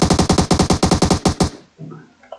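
Rapid burst of about fourteen loud, evenly spaced gunshots in the shooter game PUBG Mobile during a tournament match, close and punchy, then cut off into quiet with faint game sounds trailing after.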